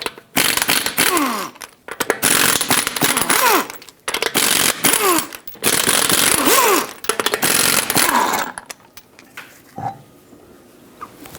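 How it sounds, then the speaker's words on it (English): Lug nuts come off a 2013-2020 Nissan Pathfinder wheel with a 21mm socket, heard as loud, close bursts of whirring, rattling tool noise in several long runs that end with a few lighter clicks. "Use a 21mm socket, take all 5 of your lug nuts off, and then take the wheel off."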